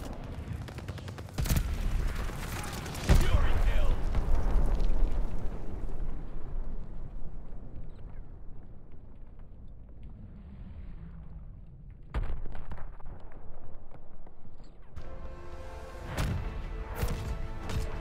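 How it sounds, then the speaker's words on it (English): Mortar barrage in Call of Duty: Vanguard, with heavy booming explosions and crackling impacts, a big blast followed by a long rumbling decay, then further sharp detonations and gunfire near the end. "Mortar barrage out. Heads up. Allied mortar fire coming."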